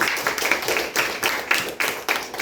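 Children and adults clapping during an official's visit to a state primary school, delivered as short rhythmic bursts of patterned claps repeating several times, moderately loud.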